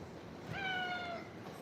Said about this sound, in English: You wanna do your weird meow again?